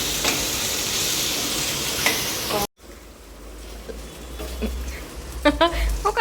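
Okra curry stirred and frying in a pan gives a loud, steady sizzle for a few seconds, then cuts out. A quieter stretch follows with voices talking over faint kitchen sounds.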